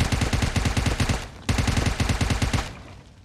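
Automatic gunfire in the PUBG Mobile video game, two loud rapid bursts of rhythmic shots separated by a short gap, the second trailing off.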